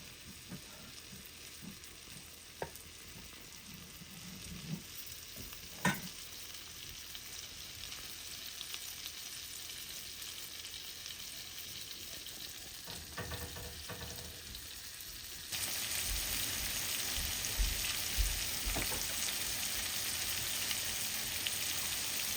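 Flour-dredged morel mushrooms fry in a skillet with a constant crackling sizzle and scattered pops and taps. The sizzle turns louder and denser in the last several seconds.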